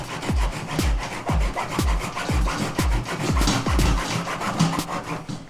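A hacksaw cuts through a car's front lip in repeated back-and-forth strokes, an even rasping rhythm of roughly two strokes per second, close and fairly loud with no talk.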